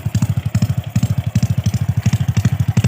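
A 110cc motorcycle fitted with a racing exhaust pipe pulses loudly and close by in a rapid, throbbing, slightly uneven beat as the engine runs and revs.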